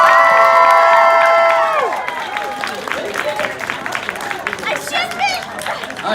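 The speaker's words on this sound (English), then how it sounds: "Let's give one more big round of applause for our round 2." A long tonal note fades, then an anime convention crowd breaks into loud clapping and cheering after a dating game round, with scattered shouts continuing to the end.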